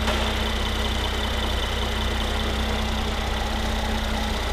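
A Mercedes-Benz C450 AMG 4MATIC (W205 C-Class) idles steadily with its hood open, a smooth, even engine hum with no speech over it.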